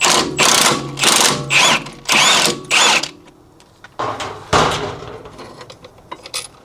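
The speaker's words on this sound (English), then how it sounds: "Next I'm going to remove this 18mm that holds this bracket and this fork to the strut" A ratchet or impact tool works loose the 18mm bolt holding the bracket and fork to the front strut of a 2013 BMW E70 X5, with loud repeated bursts of rattling, then shorter bursts and clicks.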